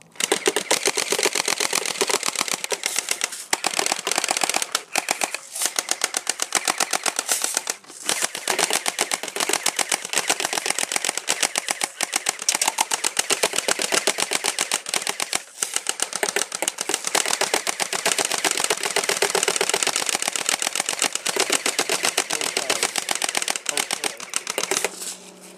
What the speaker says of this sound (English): we're upgrading a little bit and we're going to be shooting some boxes